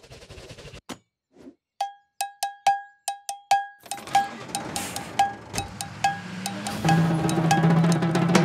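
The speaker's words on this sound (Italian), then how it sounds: "Tu devi farmi sentire più cowbell." An animated musical number has a cowbell struck in a quick run of sharp, ringing hits, followed by fuller band music with the cowbell still tapping through it.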